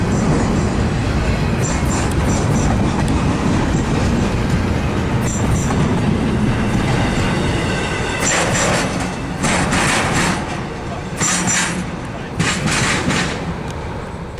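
A KCS freight train hauled by Dash 8 diesel locomotives passes close by with a loud, continuous rumble and rhythmic wheel clatter. Bright wheel squeals flare up in the second half.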